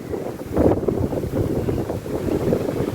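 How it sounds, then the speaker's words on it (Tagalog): Strong wind roars and buffets a microphone outdoors at a high, steep drop-off on a motorcycle trip, a steady gusty rush with no voices. "rinig nyo naman siguro yung sipol ng hangin"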